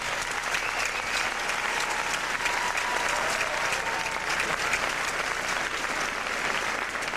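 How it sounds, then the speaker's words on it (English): Sustained, loud audience applause fills a hall at the 1998 United States Open Professional Latin American ballroom dance championship in Miami, a steady roar of many hands clapping without a break. "let's have a nice round of applause once again for our finalists"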